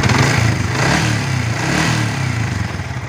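A Yamaha Vixion motorcycle engine that stalls when put in gear and throttled is revved up close, a loud steady mechanical roar that swells and eases slightly throughout with no talk.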